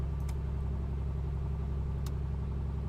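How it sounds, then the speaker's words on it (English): Steady, continuous electric fuel pump hum of an A2A Piper Comanche in the MSFS 2020 flight simulator, a low droning whir with even pulsing texture and no speech. "the fuel pump noise is excellent"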